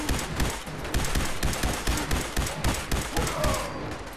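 Gunfire in the video game Fallout 4, dense rapid volleys of loud shots in quick repeating bursts throughout, close and continuous.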